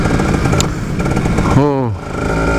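A two-stroke Kawasaki Ninja motorcycle engine buzzes loudly and close, then briefly revs up in a rising, raspy sweep before settling back.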